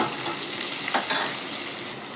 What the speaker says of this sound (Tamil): இதையும் நல்லா வதக்கிடலாம் கொஞ்சோண்டு தக்காளி கொஞ்சம் மஞ்சள் தூள்